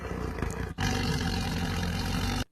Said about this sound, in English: a tiger came along and knocked on the door